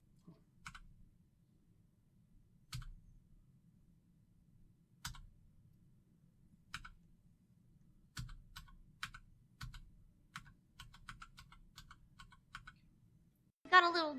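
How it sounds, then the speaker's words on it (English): Keys on a Raspberry Pi Pico macro keyboard click one at a time at irregular intervals, then a quicker run of presses, crisp and close in a quiet room. "let's actually see a demonstration of that new macro keyboard."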